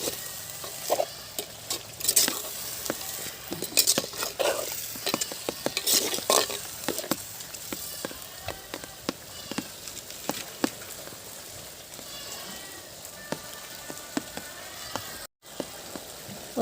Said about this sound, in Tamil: நல்லா கொஞ்சம் நேரம் ஒரு 10 நிமிஷம் வேகட்டும்